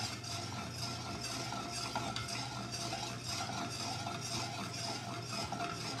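Browning butter swirled in a pan, a soft continuous sizzle with light scraping and stirring sounds, fairly quiet and steady, no voices.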